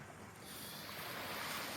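Steady seaside surf wash with light wind noise on the microphone, a continuous broadband rush that swells slightly and holds, no voices over it.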